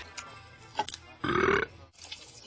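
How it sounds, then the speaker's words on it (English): A single loud, drawn-out belch lasting about half a second, close to the microphone, with a few small clicks before it. "When you belch after you've had a meal"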